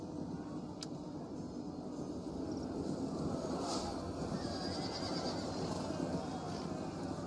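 Horses gallop and neigh in a Total War: Attila battle, a dense rumble of hooves under repeated whinnies, with a continuous wash of battle noise throughout.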